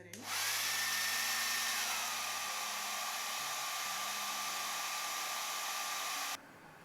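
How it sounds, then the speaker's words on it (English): A blow dryer on its cool setting, used for melting wig lace, switches on and runs as a loud, steady whine with a falling pitch early on, then cuts off near the end. "Blow dryer, cool setting."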